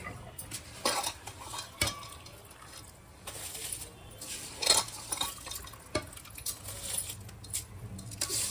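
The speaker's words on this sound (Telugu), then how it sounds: "ఇప్పుడు మనం వెంటనే రైస్ వేసుకోవటమే" Soaked rice added to a pot of water for Bengaluru donne biryani, with close clinks of metal utensils, splashes and stirring in irregular bursts, no voice over them.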